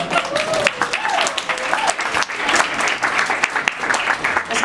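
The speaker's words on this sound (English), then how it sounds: "So a round of applause." Audience applause at a live poetry reading in Bern, a dense wash of many hands clapping throughout with some voices mixed in.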